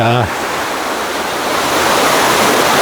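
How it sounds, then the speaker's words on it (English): Heavy flowing water near a beach after prolonged rain, a steady broadband rushing roar like a stream or small waterfall, loud and continuous throughout, with a brief voice-like tone at the very start. "It's been raining quite a bit up here, so there's a lot of flowing water in and around the beach."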